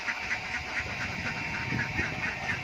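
Many ducks quack continuously nearby, an overlapping chorus of nasal calls with steady rhythm.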